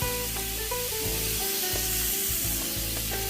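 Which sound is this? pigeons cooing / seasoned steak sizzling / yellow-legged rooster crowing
seasoned steak sizzling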